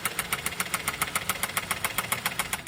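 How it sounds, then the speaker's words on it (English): A car engine running louder than normal after orange juice was added in place of engine oil, giving a steady, rapid mechanical knocking or ticking that repeats evenly, close up with no talking. "engine sounds louder than normal"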